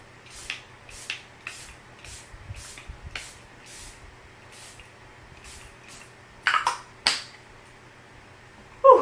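Setting spray spritzed onto a face during a makeup routine, several short sharp pump bursts in a quick series, close and crisp, with quiet room sound between them.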